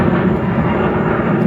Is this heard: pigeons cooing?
no